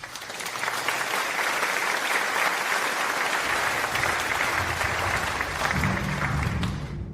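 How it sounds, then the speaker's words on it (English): Dense, steady applause from a gathered audience at a prize event fills the whole stretch, loud and even with no talk over it, and a low murmur of music enters near the end before it cuts off. "Let's give them another round of applause as they take their seats"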